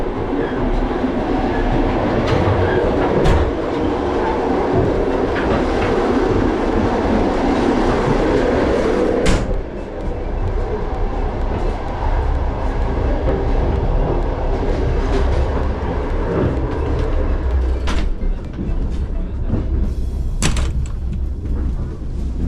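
Loud, continuous rumble and rattle of a moving open-plan sleeper carriage on the Bishkek to Samara train, with rhythmic clicks of wheels over rail joints and occasional sharp knocks and door clatters.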